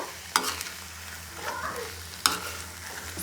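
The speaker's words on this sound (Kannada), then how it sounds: "ಸೊ ಇದು ಫ್ಲೇಮ್ ಜಾಸ್ತಿ ಮಾಡಿ ಫ್ರೈ ಮಾಡ್ಕೋತಾ ಇದ್ದೀನಿ ನಾನು" Eggs frying in a pan over a high flame, a steady close sizzle with a low hum beneath and two sharp spatula clinks about two seconds apart.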